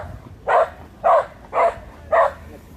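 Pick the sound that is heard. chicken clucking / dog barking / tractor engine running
dog barking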